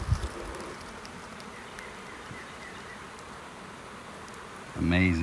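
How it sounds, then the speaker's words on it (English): Honeybees in a packed hive moved up to a bee yard give off a steady, dense buzzing drone throughout. A short burst of voice comes near the start, and a louder tonal hum rises close by at the end. "Amazing how many bees there are in this hive."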